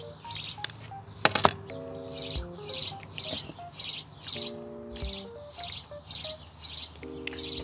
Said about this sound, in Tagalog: Parang yan pa lang yung mga ibon ngayon.